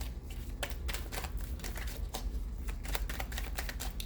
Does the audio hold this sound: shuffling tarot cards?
yes